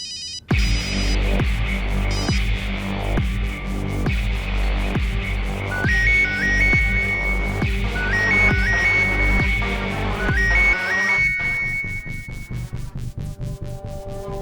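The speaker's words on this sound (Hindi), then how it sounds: "फोन क्यों नहीं उठा रहे हो?" A loud electronic ringtone repeats in a steady pulsing pattern, with a warbling melodic tone layered on top, then breaks into a choppy, stuttering ending.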